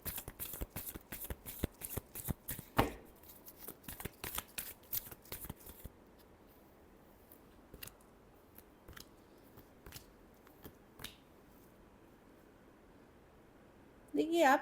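Tarot cards being shuffled by hand: a rapid run of crisp, close riffling slaps for several seconds, then a few scattered taps and card sounds before a louder shuffle burst at the end, with no talk over it.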